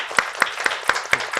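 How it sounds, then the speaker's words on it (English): Hands clap in an even, rapid rhythm as an audience applauds panelists after a Korean Peninsula news discussion. The sharp claps are close, about five per second, and sound like only a few people. "please give our wonderful panelists a round of applause"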